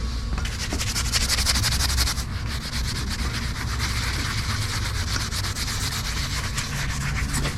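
Steady, close scrubbing of a Nissan Hardbody rear axle with a Scotch-Brite abrasive pad, a continuous rough rubbing texture that keeps going without pause.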